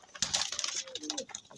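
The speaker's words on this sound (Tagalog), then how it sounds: "Itong ibon ni Boss Jeric, si Musay, saka si Kidlat." A pet bird cooing close by, a short soft run of throaty coos over faint background rustle, with no voices.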